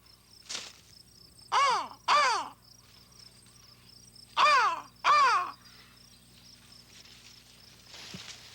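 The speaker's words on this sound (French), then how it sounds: "ça devait être une corneille que j'ai entendue" A crow caws several times in pairs, distinct harsh calls at moderate distance over a quiet outdoor background with faint insect hum.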